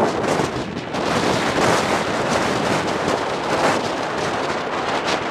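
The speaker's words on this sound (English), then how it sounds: "Oh, another gust. This one's stronger than the last." A strong gust of wind roars through a heavy snow blizzard in February 2010, a loud, continuous broadband rush that swells and buffets the microphone for the full five seconds, with no voices.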